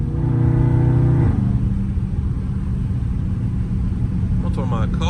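A loud Dodge Scat Pack V8 rumbles steadily on a cold drive along country roads, a deep low drone with a brief higher engine tone early on that drops back to a constant growl.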